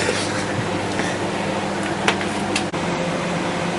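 A convection oven, baking a graphics card, runs with its fan on, giving a steady, even whir and hum throughout, with a brief click near the end and no voices.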